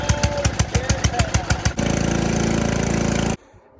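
An old 1970s snowblower engine is spun over by a screw gun driving the crank: a rapid series of loud chugging pulses, then a steady whirring drone that cuts off abruptly, all close up without speech.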